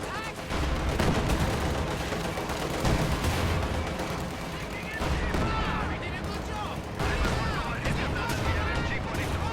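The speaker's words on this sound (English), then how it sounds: "Stuka ready to strafe enemy troops." Stuka dive bomber strafing enemy troops in a World War II strategy game, with dense gunfire and explosions overlapping in a loud, continuous battle din.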